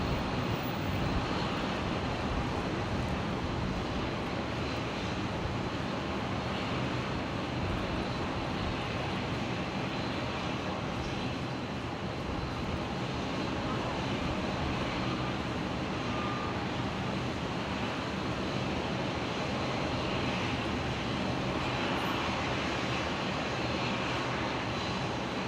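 An airliner rolls for takeoff at Brisbane Airport, its engines producing a steady, broad roar that holds at an even loudness throughout, with no voices over it.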